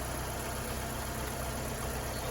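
The engine of a Fiat 500 Pop, repaired after a write-off and running with its cooling cap on, gives a steady, quiet hum that holds at one level, with no clear rise in revs.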